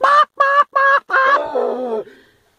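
A person imitates a hen clucking: three short nasal bawks, then a longer drawn-out cackle trailing off, loud and close.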